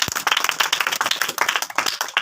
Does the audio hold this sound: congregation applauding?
yes